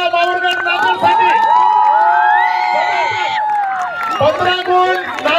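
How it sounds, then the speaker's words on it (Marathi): At a Nandurbar versus Nanded kabaddi match, a crowd cheers, whoops and shouts loudly while a commentator's amplified voice carries over the noise, with bursts of excited yelling rising and falling. "एकदा जोरदार टाळ्या नंदूर, एकदा जोरदार टाळ्या माहूरगड नांदेडसाठी."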